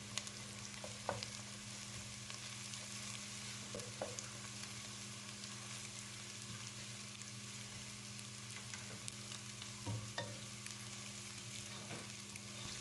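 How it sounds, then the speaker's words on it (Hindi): Crushed ginger and garlic frying with onions in oil for a Punjabi-style mutton curry, a steady close sizzle with occasional louder pops and crackles and faint stirring scrapes, no voices. "इनको ऐड करके कम से कम 1 मिनट हम इसे अच्छी तरह से भूनेंगे"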